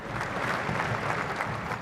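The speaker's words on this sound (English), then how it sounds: "There was gentle applause as the gun carriage passed along the route towards Westminster" Gentle, soft applause from crowds lining the route as the Queen's gun carriage passes toward Westminster, a faint, steady patter of distant clapping with no voices over it.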